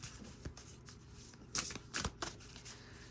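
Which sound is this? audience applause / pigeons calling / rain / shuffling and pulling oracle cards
shuffling and pulling oracle cards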